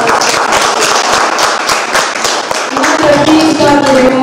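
Guests applauding at an art gallery opening in Florence, a close, sharp patter of hand claps that gradually thins, while a voice speaks toward the end.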